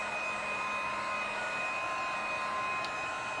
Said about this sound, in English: I'm going to hit this with the dryer a little bit.